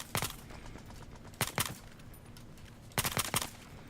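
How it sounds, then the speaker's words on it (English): Gunfire in a first-person shooter video game, heard as three short clustered bursts of two or three shots each, spaced about a second and a half apart, moderately distant over a steady background hum. "Somebody's shooting over there."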